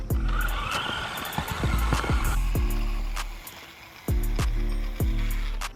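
Radio-controlled Hummer trucks drag racing on flat blacktop, their electric motors whining loudly and steadily with repeated tire scuffs and sharp bursts, the sound surging and dropping as the runs restart.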